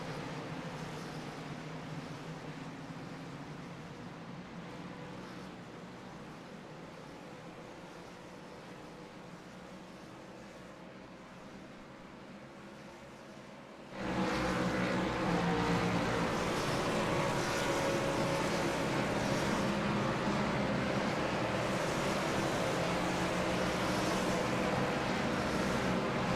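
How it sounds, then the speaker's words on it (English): Race cars rolling down the back straightaway at Charlotte: a steady broad roar of engines, fairly distant at first, then swelling abruptly into a much louder, fuller rush that holds steady to the end. "I was just listening to the sounds of the cars there on as they rolled down the back straightaway"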